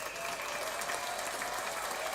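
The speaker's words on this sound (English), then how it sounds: "so one more time for you guys, round of applause" A uniform wash of applause closes a live-streamed Tennessee Titans mock draft show, even in level throughout and dense, with no talk over it.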